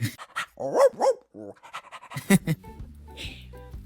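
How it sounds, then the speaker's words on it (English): A dog pants and whimpers close by, with short voiced yelps and whines in the first half, then a quick, breathy panting burst near the end. "And this is Bark, the most amazing and wonderful dog."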